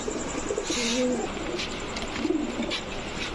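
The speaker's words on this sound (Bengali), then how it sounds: "এই হচ্ছে কালো গররা জোড়া" A pair of black gorra pigeons cooing nearby, soft throaty coos repeating a few times over a steady background hum.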